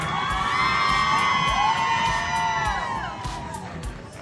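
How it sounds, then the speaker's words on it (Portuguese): A lively crowd at a cosmetics workshop cheers and whoops loudly, with high excited shouts and scattered clapping, strong at first and then gradually tapering off. "Salva de palmas para ela, tá?"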